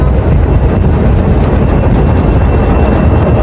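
Pakistan Railways train standing at a station on the Lahore to Peshawar line, a loud steady rumble of engine and carriage noise with a thin high whine on top, close and continuous, no talking.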